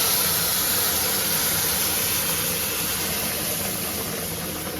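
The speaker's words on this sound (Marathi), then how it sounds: "उपीटाला ते पाणी मी याच्यात आता ओतणार आहे" Boiled water pours into a pan of roasted semolina for upma, making a continuous hissing, bubbling rush that stays steady and close, then eases slightly toward the end.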